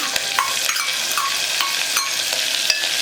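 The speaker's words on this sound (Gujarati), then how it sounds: "ડુંગળી ઉમેર્યા પછી એક ડુંગળી અને બે ટામેટાં ઝીણા ઝીણા ચોપ કરીને રાખ્યા છે એને ઉમેરી દીધા છે" Finely chopped onion and two tomatoes frying in a pan for a weight-loss recipe give a steady close sizzle, broken by repeated scraping strokes of a stirring spoon. No speech.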